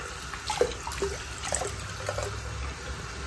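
Lukewarm water with a little soak added for washing cross stitch trickles and bubbles softly nearby, with small splashes and gurgles over a faint running flow.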